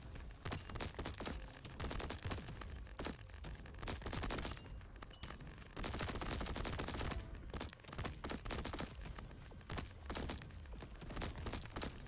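Rapid bursts of sniper and weapon fire in the Crab Champions video game, loud and dense, with sharp repeated shots and booms packed across the whole stretch and no clear pauses.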